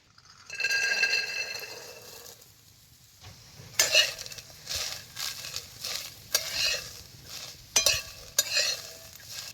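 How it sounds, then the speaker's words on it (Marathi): Fresh field beans (pavte) dry-roasting in a hot kadhai over a wood-fired chulha, with a dry rattling hiss and repeated scraping stirs, and sharper clinks of the spatula against the metal, fairly close. "आता कढई गरम झाली आहे ह्याच्यात आता ही पावटं चटचट भाजून घ्यायचं."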